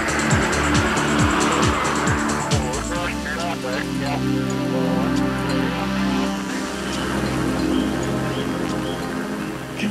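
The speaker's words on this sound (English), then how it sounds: "Can you believe the PS23 car is still going?" The PS23 car runs through an endurance session lasting over 16 hours, with a loud close engine drone and tire noise, a sharp pitch sweep in the opening seconds, then a steady hum that carries on for the rest of the clip.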